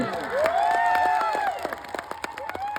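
A crowd claps at a political speech during a Birsa Munda birth anniversary celebration in Netrang, with scattered sharp claps after a voice calls out over a loudspeaker.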